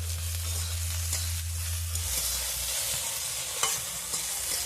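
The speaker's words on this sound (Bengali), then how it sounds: "ভেন্ডিগুলো দেখুন আমার ভাজা হয়ে গেছে" Steady, close sizzle of okra frying in oil with occasional stirring clicks; a low hum fades out partway through.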